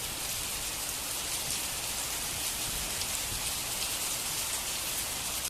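Heavy night rain pours steadily as a dense, even hiss of drops hitting surfaces, loud and continuous with no talk or thunder.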